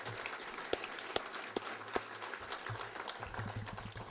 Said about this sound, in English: Let's everyone give Adam and Jason a round of applause for the work they've done today.